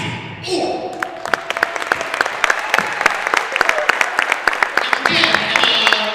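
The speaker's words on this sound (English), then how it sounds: "Let's give a nice round of applause, ladies and gentlemen." A gym crowd applauds senior players honored at a girls high school basketball game, with dense, sustained clapping that swells and holds throughout, a voice faintly audible underneath.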